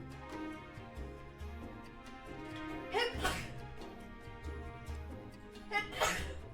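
Two sharp sneezes burst out a few seconds apart over a steady background of music and soft noise.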